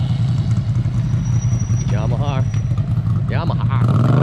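A Ducati motorcycle rumbles close by with a low, pulsing engine note and a couple of rising revs as it passes, heard alongside a nearby voice.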